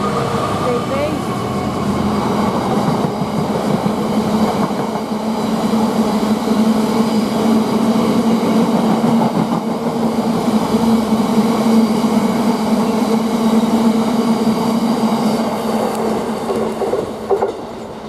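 Class 66 locomotive 66112 and its train rumbling past at March railway station, a steady loud drone with a low engine hum held throughout and no pause in the roar.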